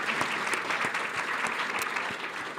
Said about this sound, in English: once again, let's have another round of applause for Emma and Josh.